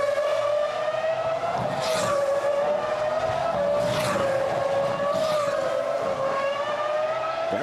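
Rubens Barrichello's Ferrari Formula One car at the 2004 Monaco Grand Prix, a loud, steady high-pitched engine scream with rising and falling pitch as it passes through the street circuit, other cars blending in, no talk.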